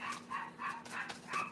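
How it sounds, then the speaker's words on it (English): A small pet dog barks repeatedly from downstairs in a house with open windows and door, the yips coming in an even rhythm of about five quick, muffled barks, somewhat distant and fairly faint. "He could be barking at something a whole 3 streets away."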